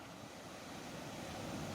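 Gentle ocean surf rolls in a steady, low wash, swelling slightly louder toward the end, with no voices over it.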